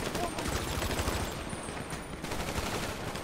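Rapid bursts of gunfire during a heist in a video game, dense and continuous, with automatic fire rattling throughout at a steady level.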